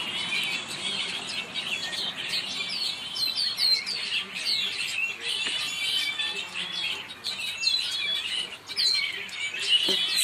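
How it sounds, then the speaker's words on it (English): Backyard birds chirp and tweet in a tree where they are fed, a busy overlapping chorus of bright calls and squawks, moderately close and steady, with no talk. "These are my birds. I feed them down there in the tree."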